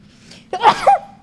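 A single close, sharp sneeze: a quick inhaled buildup, then an explosive burst with a short trailing tail, against a low background hum.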